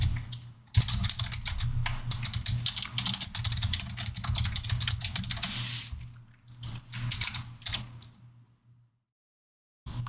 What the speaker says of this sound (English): Also, ASMR me typing.